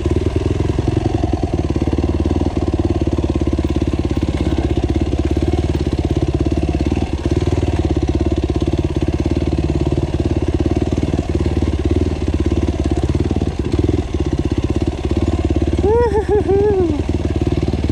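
A motorcycle engine in first gear labours steadily up a steep forest trail, a loud, close, continuous drone with small throttle variations, and a brief higher warble near the end.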